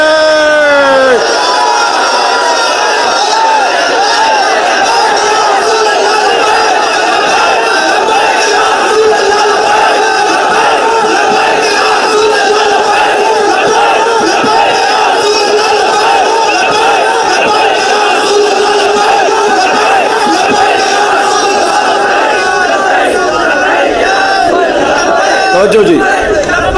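A large crowd at a religious-political rally chants the slogan Labbaik, a loud, continuous roar of many voices, dense and sustained throughout.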